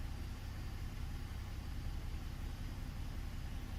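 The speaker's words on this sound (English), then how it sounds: "Start it up so I can check it." A Ford vehicle engine of 2009 or later idles steadily just after start-up, a low continuous rumble close by with no voices.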